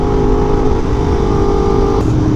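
Yamaha R1M sport motorcycle fitted with a Toce exhaust, its engine revving hard and steady at close range, loud and continuous with no talk over it.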